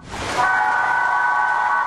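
A toy train in a small museum exhibit gives a shrill whistle after a brief rumbling start, holding a steady high tone close by for over a second.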